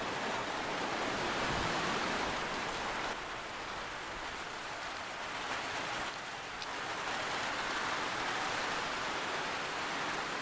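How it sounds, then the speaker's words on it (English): Steady heavy rain pours down in the Pynthor Langteiñ valley, a dense, close, continuous hiss with no breaks and slight swells in intensity. "Here come the rain!"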